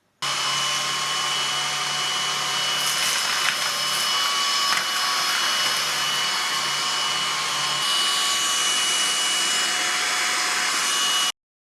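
Vistefly VX cordless stick vacuum cleaner running alone with a steady, loud high-pitched whine and motor hum, holding constant throughout with brief fluctuations and no talk.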